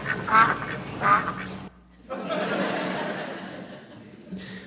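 A duck quacks loudly twice in an Aflac insurance commercial, followed by a burst of laughter and chuckling from people nearby.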